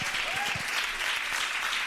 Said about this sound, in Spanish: Ahora tú aplaudes y está fantástico.